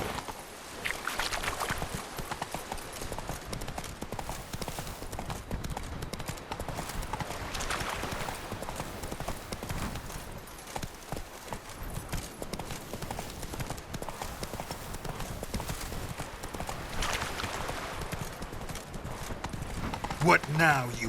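Roach, a horse in The Witcher 3, gallops with steady rhythmic hoof clip-clops that run on throughout, mid-loud under other game sounds. A voice is heard from time to time.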